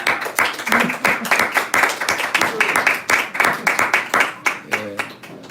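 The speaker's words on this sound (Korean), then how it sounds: "우리 한번 박수로 환영하십시다." A small church congregation claps together in an uneven rhythmic patter to welcome arriving guests, with voices speaking briefly over the clapping.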